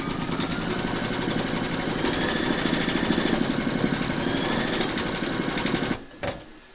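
An embroidery machine stitches a maple leaf appliqué in its hoop with a loud, rapid, even mechanical chatter, then stops near the end, leaving a brief clunk and a near-silence.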